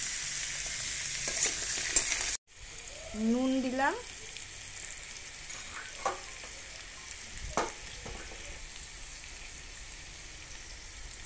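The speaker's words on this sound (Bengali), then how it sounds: "এবার দিয়ে দিলাম কুমড়ো আর আলু। এটাকে ভেজে তারপরে মশলা দেবো।" Pumpkin and potato pieces frying in a pan for a prawn curry, a faint crackling sizzle with stirring scrapes and clinks, while someone speaks briefly over it.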